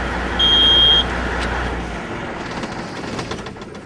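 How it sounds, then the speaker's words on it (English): A semi truck's engine is shut off during a pre-trip inspection: a steady low rumble with a brief high tone stops abruptly at two seconds, leaving quieter ambient noise. "I am now going to shut off the truck."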